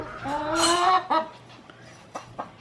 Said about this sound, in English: These chickens are literally begging at the back door.